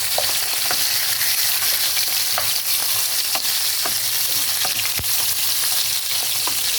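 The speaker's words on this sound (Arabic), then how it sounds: "الدجاج لازم نحمروه بالطبع باش تجي الماكله زوينه." Chicken pieces fry loudly in a pan, a dense continuous sizzle close up, with occasional stirring clicks and one sharp knock partway through; nobody speaks.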